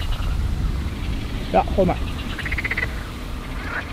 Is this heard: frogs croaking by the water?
yes